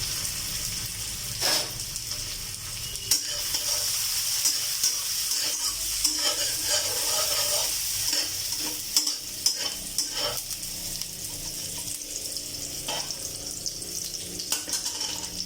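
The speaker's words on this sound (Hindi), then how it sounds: "तो सबसे पहले प्याज को डालेंगे, और अभी अजवाइन डाल देते हो" Chopped onion and carom seeds stir-fried in a pan for a dry-fried dal, with steady close sizzling under scraping spoon strokes and occasional clinks against the pan, no talking.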